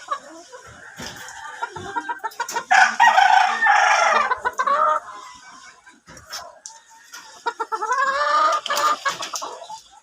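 Chickens cluck and squawk close by in a backyard setting, a loud stretch of excited calls with a crow-like cry, broken by short pauses and scattered clucks.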